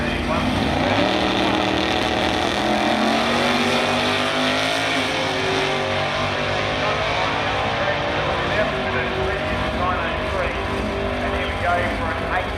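A big-block Ford Mustang drag car engine works hard on a run, a loud, sustained harmonic roar with shifting pitch, heard under a voice talking.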